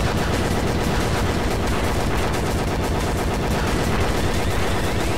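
Relentless rapid gunfire fills a Gun Deadline game session, a dense loud stream of shots with no pause and no voices.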